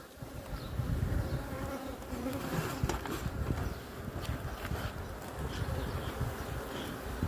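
A dense, steady buzzing of many honeybees swarming close by at an opened hive during a honey harvest on the Samsun coast, a continuous droning hum with no voices.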